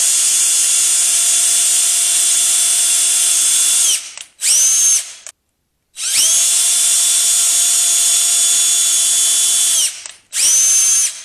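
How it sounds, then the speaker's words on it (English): A small power drill with a tiny bit drills out plastic on a Ford F250/F350 tail light mount, whining at high pitch in sustained bursts, stopping briefly and spinning up again several times, close and loud. "you're going to have to drill them out with this tiny drill bit"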